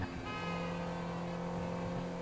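Sports car engine in GTA 5 Online holding a steady, sustained drone with a layered harmonic whine, loud and continuous with no talk over it.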